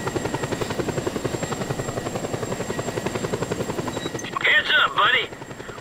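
Steady helicopter rotor chop and engine drone from a chopper in Just Cause 2, loud and continuous for the whole stretch, with a brief higher electronic tone near the end.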